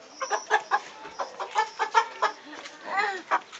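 A live chicken clucks repeatedly in short, nasal bursts close by, in an uneven rhythm with a longer squawk near the end.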